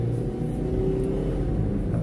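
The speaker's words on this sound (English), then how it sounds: "I'll just get past this truck first." A car drives along a road past a truck, giving a steady, close engine rumble and road roar throughout without any pause.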